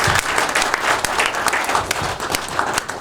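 A crowd at a gun-rights rally claps steadily, a dense wash of many hands that is loud and sustained with no voices over it.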